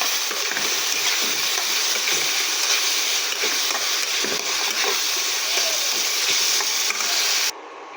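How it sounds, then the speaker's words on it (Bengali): Chana dal and soybean sauté in a pan with ground cumin paste, a loud, steady sizzle broken by stirring scrapes that stops abruptly near the end. "বেটে রাখা জিরে দিয়ে ভালোভাবে কষিয়ে নিচ্ছি।"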